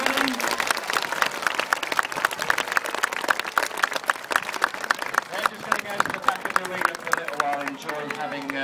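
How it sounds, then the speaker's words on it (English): An audience at an elephant show gives sustained, steady applause lasting several seconds, dense and fairly close. A voice briefly comes through near the start. "Give them a great big round of applause, everybody."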